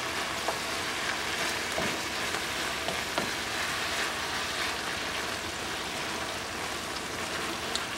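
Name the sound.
ground beef and melting cheese being mixed in a frying pan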